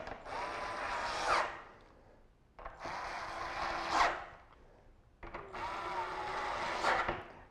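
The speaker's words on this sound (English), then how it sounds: "We take our drill and we tighten these guys up," Cordless drill tightening hydrofoil deck bolts, three separate close bursts of whirring that rise in pitch and end with a ratcheting catch, short quiet gaps between them.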